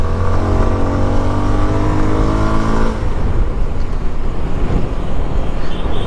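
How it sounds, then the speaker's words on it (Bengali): CF Moto SR 250 motorcycle engine revving hard at high RPM, a loud close harmonic whine for about three seconds that then drops away into rushing wind and road noise. "হাই RPM এ বাইকটা জোস"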